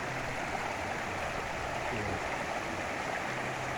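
Cold stream water flowing in an eco park, a steady broadband rush and gurgle that stays constant and fairly close throughout, with no talking.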